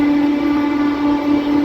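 A MEMU train on the Nellore to Vijayawada line sounds a long, steady horn note as it passes a level crossing, loud and unbroken over a low running rumble.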